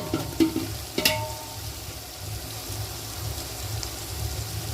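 Ginger, curry leaves and green chillies stir-fried in a pan for coconut milk rice. A couple of sharp clinks open into a quiet, steady sizzle that carries on alone.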